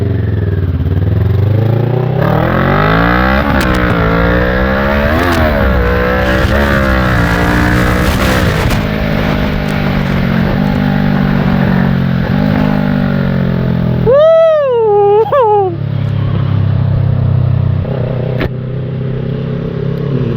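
A Kawasaki Ninja 650 (ER6F) motorcycle engine, stopped at a red light by a toll road, revs hard through repeated rising and falling sweeps, loud and close, with one sharp high-pitched whine cutting in near the end.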